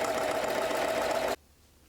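A sewing machine runs steadily, top stitching a seam on a wrap peacoat, with a close, even mechanical whir that stops abruptly, leaving near silence.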